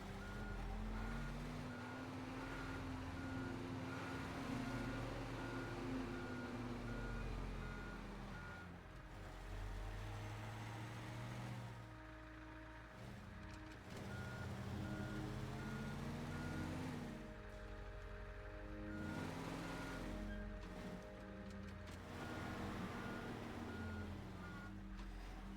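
A truck driven in reverse in the Teardown video game, its engine rumbling loud and shifting pitch while the reversing alarm keeps beeping, with brief lulls along the way.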